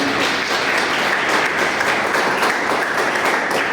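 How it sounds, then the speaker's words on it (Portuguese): A church congregation claps together in sustained, dense applause that fills the room evenly for a few seconds, with no voices standing out. "Mais uma salva de palmas ao Senhor."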